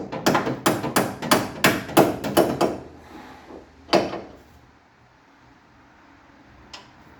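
Rapid metallic hammer blows on a Triumph TR3 steering rack ring out in a steady burst of about nine strikes, then a single heavier hit and a faint tap after a pause.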